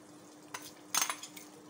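Crushed fried whole chillies being stirred into aloo qeema in a pot, with a few soft scraping clinks of a spoon against the pot and a brief burst of louder stirring near the middle, faint and close.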